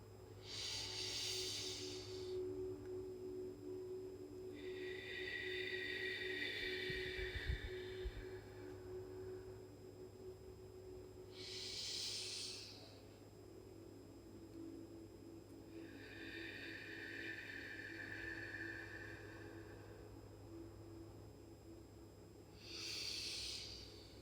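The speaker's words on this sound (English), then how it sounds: "we're going to start with 3 deep breaths" Three slow deep breaths are taken close to the microphone, each a long hissing inhale followed by a softer, drawn-out exhale, evenly paced over a faint steady background hum.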